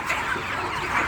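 Chickens in a poultry shed with litter on the floor clucking in a brief, close, continuous chorus.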